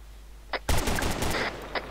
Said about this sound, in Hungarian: csak legyen vége a lövöldözésnek